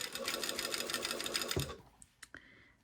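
A sewing machine basting an invisible zipper runs in a fast, steady stitching chatter for about a second and a half, then stops, followed by a few faint clicks and handling noises.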